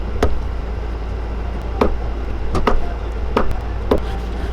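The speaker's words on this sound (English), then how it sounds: "Just chopping lead in the bait shop." Lead being chopped at a bait shop bench: sharp, separate metallic chops, about seven of them at uneven intervals over a steady low hum, close and fairly loud with no talking.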